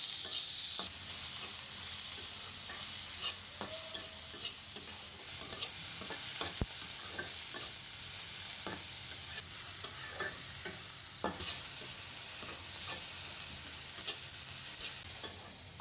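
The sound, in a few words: crushed garlic and chopped onion frying in oil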